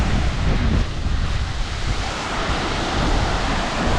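Heavy waterfall in full flood roaring steadily as a loud, dense wash of water, close and constant with slight buffeting gusts and no voices.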